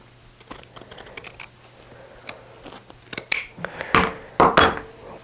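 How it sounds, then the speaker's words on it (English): Pinking shears trim the curved back neck of a fabric top, giving a run of crisp, close snips that start sparse and quiet and grow louder and denser toward the end. "I'm going to get my pinking shears and trim this whole back neck to about 1/4 inch"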